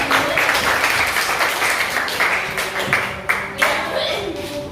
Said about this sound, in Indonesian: Oke, tepuk tangan dulu untuk diri kita.